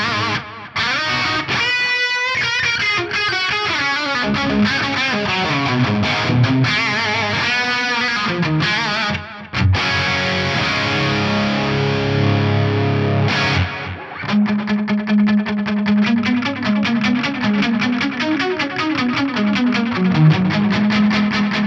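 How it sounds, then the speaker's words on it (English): Electric guitar notes ring out through a mono tape delay, each phrase trailing soft, slightly warbly repeats; steady and fairly loud, no talking. "What I've got at the moment is a very simple mono tape delay."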